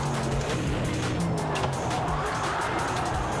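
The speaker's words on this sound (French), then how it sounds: "Oh, on va faire sortie de piste." A race car in Project Cars 2 skids off the track on a wet surface, its loud engine roaring under sustained tire squeal and sliding noise from start to finish.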